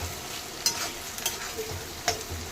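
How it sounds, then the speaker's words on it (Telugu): Garlic, tomato and onion with ginger-garlic paste frying in a pan, a steady soft sizzle broken by a few scraping stirs of a spoon, close and fairly quiet. "బాగా కలపండి వేయించండి"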